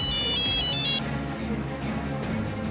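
A landowner's mobile phone rings out in the fields with an incoming police call, its electronic ringtone sounding in two quick chirping bursts over steady background music.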